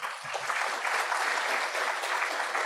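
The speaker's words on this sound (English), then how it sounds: "Please join me to welcome them with a big round of applause." Steady applause from an audience welcoming guests at a World Mental Health Day event, a dense, even clatter of many hands clapping continuously at moderate loudness.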